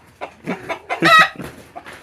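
A native village rooster close by gives a quick series of sharp, agitated clucks, one louder squawk in the middle.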